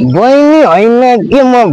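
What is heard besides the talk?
None of the usual background noises is heard.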